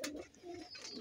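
Pet pigeons in a loft give a brief soft, rolling coo at close range, with a faint higher chirp over it.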